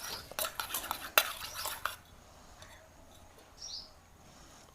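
A spoon clinks and scrapes briskly against a bowl while beating a Vaseline mixture for a homemade dandruff remedy, rapid close taps for about two seconds, then near quiet with a faint chirp.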